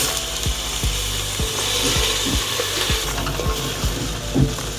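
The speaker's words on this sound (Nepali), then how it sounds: "घिउमा चामल फ्राई गरेर" Rice fries in ghee for kheer, a steady close sizzle with a regular series of scraping, clicking strokes as the grains are stirred against the pan.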